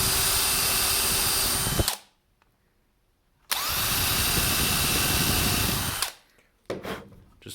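A drill countersinks holes through a 3D-printed drilling template, whining steadily at close range for two long bursts separated by a silent pause, followed by a few short clattering noises.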